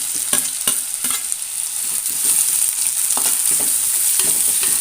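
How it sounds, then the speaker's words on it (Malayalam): Sliced onion fries in hot coconut oil in a pan, with a few sharp stirring scrapes early on, bright hissing sustained throughout. "ചട്ടി ചൂടായി അതിലേക്ക് വെളിച്ചെണ്ണ ഒഴിച്ചു കൊടുത്തിട്ടുണ്ട് ഒരു ചെറിയ സവാള സ്ലൈസ് ആയിട്ട് അരിഞ്ഞത് ഇട്ട് കൊടുക്കുന്നുണ്ട്"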